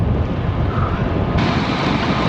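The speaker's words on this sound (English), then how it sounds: "Wind's trying to send us back to Aberfeldy here." Strong headwind buffets a cyclist riding in Scotland near Aberfeldy, a loud, constant roar of wind across the microphone with no talking.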